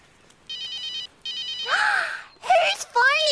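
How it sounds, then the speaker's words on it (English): A telephone rings in two bursts of electronic trilling, followed by gasping and groaning voices reacting nearby. "Whose phone is that?"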